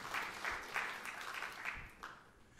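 Congregation applause during a church sermon, a moderately quiet, fairly distant run of clapping with rhythmic bursts that thins out toward the end.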